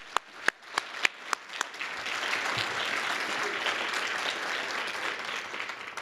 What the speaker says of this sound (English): join me in a round of applause for Sergey.